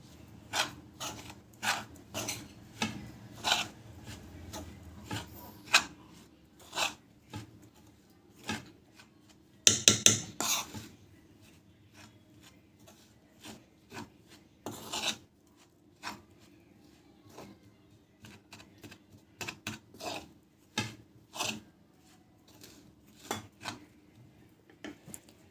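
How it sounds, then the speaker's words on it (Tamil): Laddu mixture being mixed by hand in a bowl, with irregular soft rubbing, scraping and tapping sounds that repeat close up and quiet across the whole stretch. "ஸோ இந்த மாதிரி வந்து நல்லா வந்து மிக்ஸ் பண்ணிக்கணும்."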